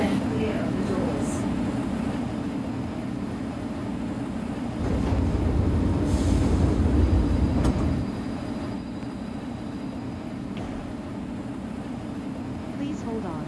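An Alstom Innovia APM 300R people-mover in a Roblox airport transit game departs the station, a steady rolling rumble that swells louder for a few seconds as it pulls away, with an announcement voice speaking over it.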